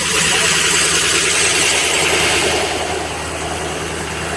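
A car engine idles with its exhaust running, a steady close rumble and broadband hiss that holds constant for several seconds during a police traffic stop, easing slightly toward the end.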